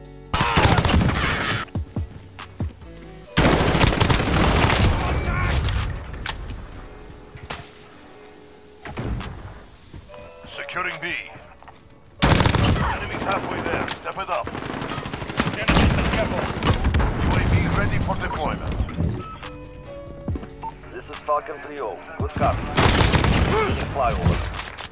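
VTOL killstreak gunfire in Call of Duty Modern Warfare: loud sustained bursts of rapid fire and booming impacts over about 25 seconds, with brief lulls and people talking over the action.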